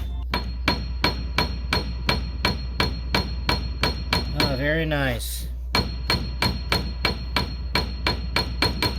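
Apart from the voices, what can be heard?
piano hammer striking string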